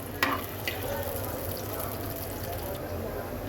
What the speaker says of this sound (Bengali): তো চলো আলুগুলো ভাজার জন্য মিনিমাম পাঁচটা মিনিট সময় তো লাগবে